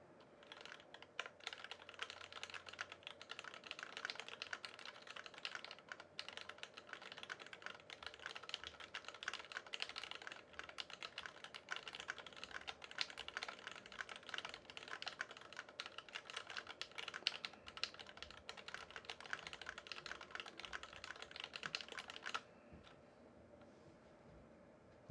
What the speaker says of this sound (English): All right, let's do another typing test.